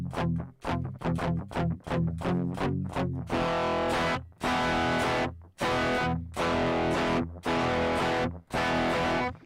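Crunchy distorted electric guitar through the IK Multimedia X-Drive digital distortion app plays chugging chords, first in quick staccato stabs, then longer sustained strums, loud and close with no talking.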